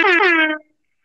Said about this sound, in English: I had to give you some air horns for that